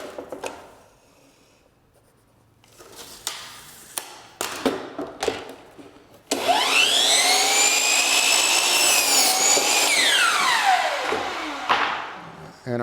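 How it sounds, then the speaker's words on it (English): Power saw cutting a wooden window stool during trim installation, a loud steady whine that runs for about six seconds and winds down, preceded by a few sharp knocks and handling sounds. "so we're going to cut our window stool"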